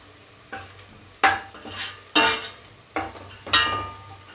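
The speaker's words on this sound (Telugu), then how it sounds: "ఉల్లిగడ్డలు వేగి గోల్డెన్ బ్రౌన్ కలర్లోకి వచ్చాక ఇందులోకి 1 టీ స్పూన్ అల్లం వెల్లుల్లి పేస్ట్ వేస్తున్నాం" Onions frying in a pan for Telangana-style mutton keema curry sizzle quietly between several loud, sharp scraping stirs spaced about a second apart, close and clear with no talk.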